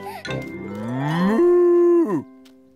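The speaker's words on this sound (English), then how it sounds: "Moo! Moo! Come on, Daddy Cow, this way." A cartoon cow, Daddy Cow, gives one long, loud moo, performed by a voice actor, that rises and then holds steady before dropping off at the end, with no other sound around it.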